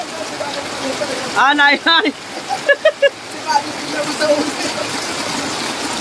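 Steady heavy typhoon rain hisses throughout, with a voice speaking briefly over the downpour.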